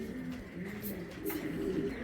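Python bloodline pigeons coo softly in low, continuous murmurs, fairly faint, with a couple of brief higher chirps breaking through.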